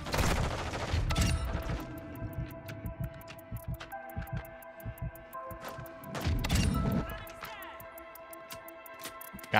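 Lockwood 300 shotgun blasts in a first-person shooter game, two heavy booming bursts several seconds apart over a steady electronic hum and game tones.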